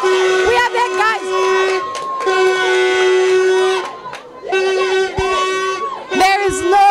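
Crowd cheering with blaring horns at the start of the 2014 La Ruta Maya Belize River Challenge canoe race, day one; loud, sustained cheering and horn blasts that pause briefly and then swell again.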